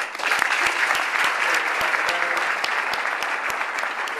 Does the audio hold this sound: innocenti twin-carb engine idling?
no